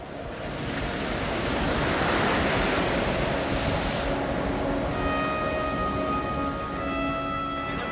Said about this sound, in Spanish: El fuerte oleaje dificulta la navegación